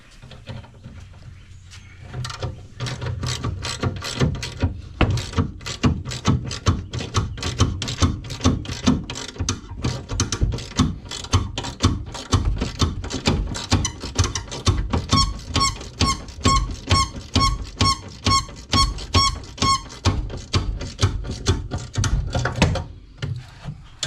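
A ratchet tightens a bolt on a vintage Harley-Davidson golf cart, a steady run of close, rapid clicking strokes in repeated bursts that continues for most of the stretch without talk.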